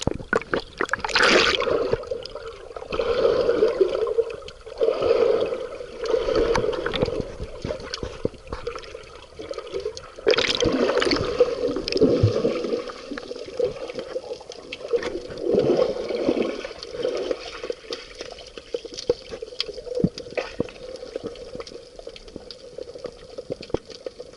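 Sea water churning against a rocky shore at Calaregina on the Gulf of Cagliari, a loud, continuous sloshing and gurgling with repeated surges and splashes close by.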